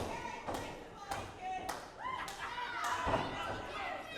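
A wrestler is slammed onto the ring mat with an exploder suplex during a cruiserweight title match, giving a few sharp thuds amid crowd noise and a commentator's voice.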